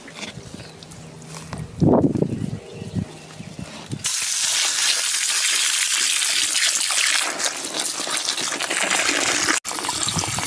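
Steady rushing water drains out in a continuous hissing gush after a brief gurgle, loud and close, from a clogged drain in the back of a convertible BMW E46, with no voices.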